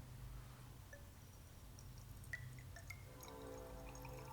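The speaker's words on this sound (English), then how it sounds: "Now you pour some water, about half full." Water trickles and drips into a glass flask for a salt-dissolving demonstration, quiet and close, building to a fuller pouring gurgle with light glassy clinks.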